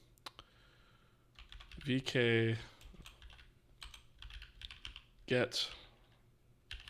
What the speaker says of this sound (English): Let me just start typing it, I suppose.